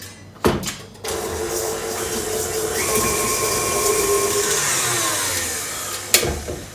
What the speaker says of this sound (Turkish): Öncelikle mikserime tereyağına ve toz şekerimi alıyoruz. Güzel bir krema haline gelene kadar iyice çırpıyorum.